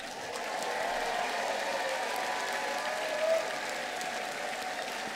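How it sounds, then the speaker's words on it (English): Graduation ceremony audience cheering and applauding in a large hall, a steady wash of clapping and crowd noise that swells briefly partway through. "And 3 cheers for those who support you."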